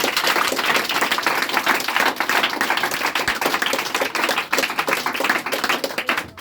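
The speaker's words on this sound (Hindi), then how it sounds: "तो डॉक्टर APJ अब्दुल कलाम के लिए ताली बजा दीजिए।" A hall audience claps for Dr. APJ Abdul Kalam, a dense, continuous burst of many hands, loud and close throughout without speech.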